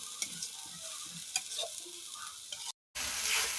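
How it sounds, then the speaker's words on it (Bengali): Ginger-garlic masala being stirred and fried in a pan for a goat meat curry, a steady close sizzle with scraping spatula strokes, broken by a brief silent gap before the frying resumes. "নাড়াচাড়া করতেই থাকবো যতক্ষণ না আদা রসুনের ঘ্রানটা বের হয়"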